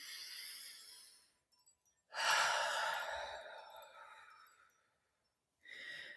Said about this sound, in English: But breathe, really breathe. Take a deep breath in.